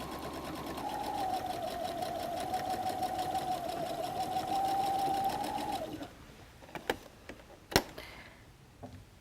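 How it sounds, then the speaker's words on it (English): A sewing machine runs steadily for about six seconds, stitching a contrast piece onto the lining of a messenger bag, then stops, leaving a few faint clicks and handling taps. "I'm still sewing the contrast piece down."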